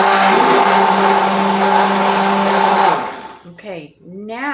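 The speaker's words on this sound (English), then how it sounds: "When you're using a stick blender, you might want to start at the bottom and then raise it a little bit" A stick blender whirs loudly and steadily as it purées a carnivore-style dip, the motor note holding for about three seconds before cutting out, followed by brief vocal sounds.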